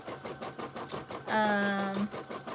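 An embroidery machine stitching a slow knock-down stitch on a towel, with steady rhythmic needle ticks and a brief sustained motor whine rising in the middle, close by.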